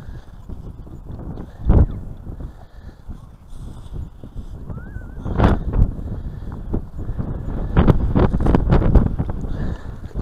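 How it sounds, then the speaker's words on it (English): Wind buffets a microphone outdoors on a beach at Cleethorpes during metal detecting, giving low rumbling gusts that swell and drop irregularly, with a few louder bursts. "Can't see that bloody wind."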